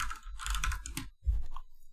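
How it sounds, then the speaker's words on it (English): Bursts of quick keystrokes on a computer keyboard, a flurry of clicks, a short pause, then a few more taps; close and fairly quiet. "We'll be typing function before update."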